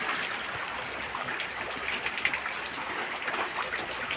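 Steady heavy rain at night, flooding a house courtyard, a continuous wash of hissing water that stays even and fairly loud throughout.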